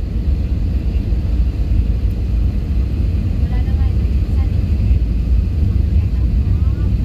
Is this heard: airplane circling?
yes